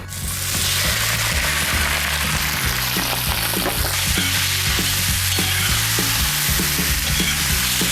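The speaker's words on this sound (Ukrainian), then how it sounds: "Тепер настав час смажити сердечка. Додаю знову соняшникову олію і закладаю сердечко." Loud, steady sizzling of chicken hearts frying in hot sunflower oil, with occasional clinks and scrapes of stirring in the pan.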